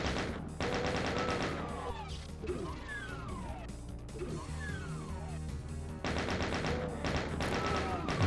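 Gunfire in the video game Doom as a computer gets shot out, bursts of shots at the start and again near the end, with a quieter stretch of smashing and game effects between.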